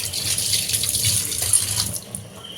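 Tap water runs steadily into a sink basin as it is scrubbed clean after dishwashing, a close, continuous hissing splash with small shifts in flow.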